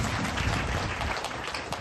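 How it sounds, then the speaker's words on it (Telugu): Loud, dense applause from a church congregation at a holy wedding service, filling the whole moment as a steady wash of clapping with no voices on top. "బిగ్గరగా చప్పట్లు కొట్టి"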